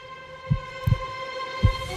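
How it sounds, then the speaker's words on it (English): A heartbeat sound effect gives deep, muffled thumps in double-beat pulses at a steady slow rhythm, set over a sustained tonal musical drone. "A heartbeat."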